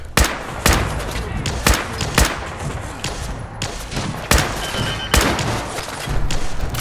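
Enemy gunfire in Fallout 4 survival mode hits the player, loud irregular bursts of shots and impact thumps spaced through the clip, close and punchy.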